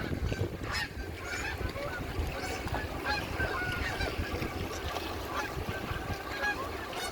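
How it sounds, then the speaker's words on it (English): Several geese honking in a busy chorus, repeated calls overlapping continuously at moderate distance, with a steady background rumble from an excavator digging in a garden. "Geese are wondering what we're doing."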